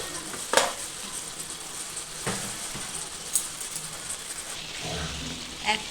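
Ginger paste sizzles in a pan with vegetables and tomatoes already fried for a vegetable fish curry: a faint, steady frying hiss with occasional soft stirring knocks, no voices.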